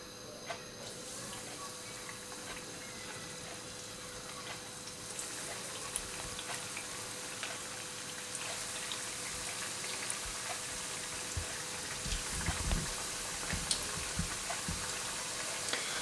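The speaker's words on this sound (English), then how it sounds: "let's start frying" Iberian ham and chicken croquetas frying in hot oil, a faint steady sizzle and crackle running throughout, with occasional louder pops and stirring sounds toward the end; no talking.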